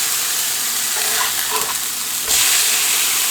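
Ground beef sizzles steadily in a hot pan for a poor man's cheesesteak, a continuous close frying hiss broken by scraping as the meat is flipped, and the sizzle grows louder near the end.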